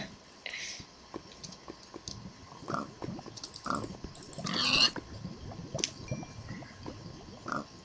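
A pig is killed in a survival video game, giving short bursts of game sound effects, including grunting squeals and chewing-like crunches, against a low background with a steady faint tone.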